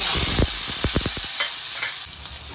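Cumin seeds and chopped green chili sizzle in half a spoon of hot oil in a wok, a steady close hiss broken by several quick stirring scrapes early on, with no talk.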